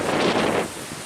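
Gusty wind sweeps across the Lake Superior shoreline at Pictured Rocks in autumn, buffeting the microphone with a loud roar that eases near the end, and surf sounds faintly beneath.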